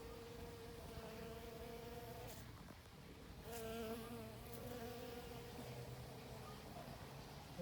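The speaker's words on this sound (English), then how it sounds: "The bees are loving the flowers." Bees buzz steadily close by around flowers, a constant droning hum that rises briefly in the middle, with no voices.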